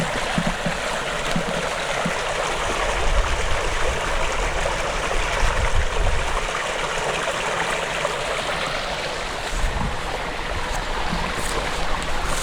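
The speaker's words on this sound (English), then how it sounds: "A little stream" A small stream runs next to Rafeby Church in the Lincolnshire Wolds, a steady close rushing and trickle of water with no other sounds.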